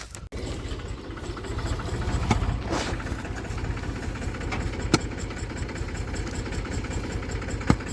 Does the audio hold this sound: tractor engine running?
yes